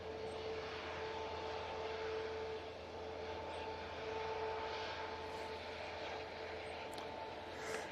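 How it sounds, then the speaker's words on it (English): An aircraft approaching to land at Manchester Airport gives a faint, steady engine drone heard from a distance, with a constant hum and broad wind-like noise throughout. "we can see another aircraft that just turning onto finals"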